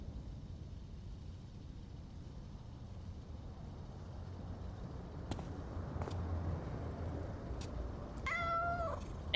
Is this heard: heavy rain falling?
no